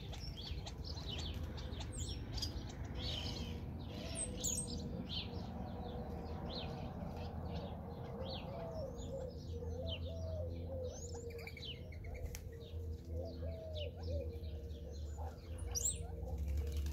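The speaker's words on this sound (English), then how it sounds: "You listen, the birds give a warning" Small backyard birds giving warning calls, scattered sharp chirps and tweets over a low background hum, with a brief flutter of wings early on, heard at moderate distance.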